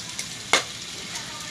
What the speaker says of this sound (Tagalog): Talsikan ka na naman dyan.